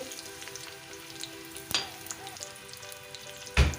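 Onions frying in moderately hot oil in a karahi for mutton karahi; a steady close sizzle with a couple of louder clattering stirs or scrapes of the utensil against the pan, no talking.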